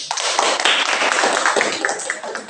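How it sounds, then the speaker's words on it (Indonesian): A classroom of students claps for a presenting group, a loud, close burst of scattered hand claps with uneven rhythm that continues briefly before tapering slightly. "kita beri tepuk tangan dulu untuk kelompok"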